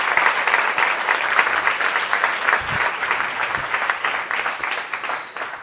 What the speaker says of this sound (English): give her one last round of applause on the way out